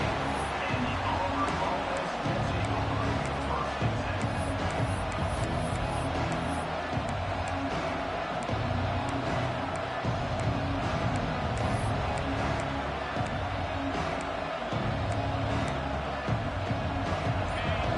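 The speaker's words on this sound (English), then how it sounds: "This crowd bringing the energy and noise early" Crowd at a football stadium roaring with steady, dense noise and scattered cheers throughout, heard at a distance under continuous broadcast commentary.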